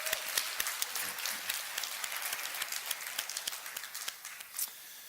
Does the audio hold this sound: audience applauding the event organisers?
yes